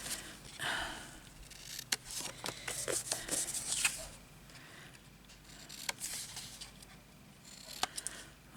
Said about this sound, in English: I'll cut the corners and see what it looks like